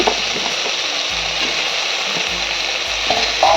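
Mango stirred into okra and soft-boiled pumpkin as the mixture fries in a pan for a sour mango dish, giving a steady close sizzle with a few scraping stirs throughout.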